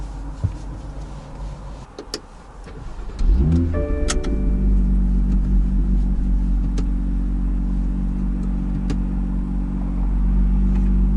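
An internal combustion car starts up with a quick crank and settles into a steady engine drone that builds slightly as it pulls away, heard from inside the cabin after some small clicks and handling noises.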